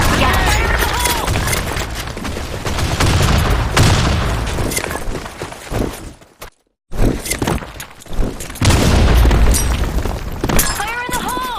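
Grenade blasts and gunfire in a desert sand storm combat video game, loud bursts and crackling shatters in rapid succession, broken by a brief silent gap, with voices calling out over the action.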